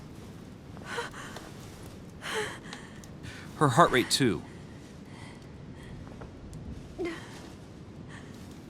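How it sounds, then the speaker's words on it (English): In The Council video game, a woman breathes heavily with a cluster of gasping, sighing breaths in the middle, set among quiet background ambience, while someone speaks nearby. "Her breathing is becoming stable and..."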